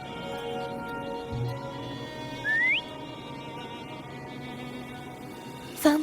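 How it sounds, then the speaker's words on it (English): A short rising whistle calls a horse in the video game Wuthering Waves, a single clear tone over a steady ambient game background hum, alone without talk. "Try whistling."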